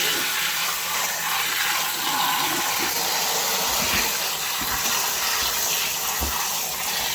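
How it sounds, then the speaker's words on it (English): Tap water runs steadily over a couple of handfuls of spinach being rinsed, a continuous broadband splashing rush with occasional louder spatters, close and without talk. "I'm gonna rinse that spinach."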